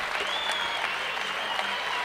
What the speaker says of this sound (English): she gets a nice round of applause from the Fond du Lac crowd